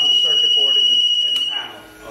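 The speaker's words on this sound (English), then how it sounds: "silence the alarm here." A shrill continuous electronic alarm tone from a water heater's low water cutoff sounds loudly, then cuts off abruptly, while someone speaks over it.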